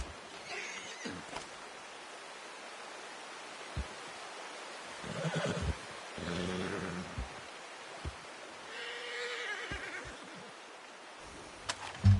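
A horse lets out several whinnies and snorts at irregular intervals, fairly close and moderately loud, with quieter rustling stretches between calls.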